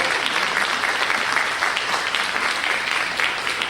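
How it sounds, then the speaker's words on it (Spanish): An audience at a university talk breaks into steady applause, many hands clapping close and loud in a dense, even patter throughout. "un aplauso"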